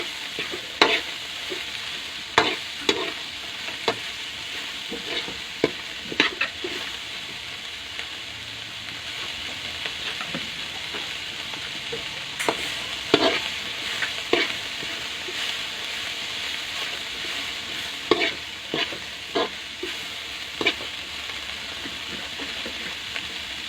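Shrimp simmer in coconut milk for ginataang hipon while a spoon stirs them in the pan. A soft bubbling hiss runs underneath, broken by sharp, irregular scrapes and knocks of the utensil. No voices.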